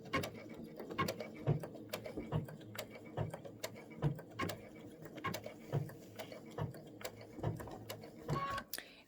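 Baby Lock Crescendo sewing machine stitching an appliqué quilting project, a close, steady mechanical run of rapid needle clatter with rhythmic thumps and small pauses.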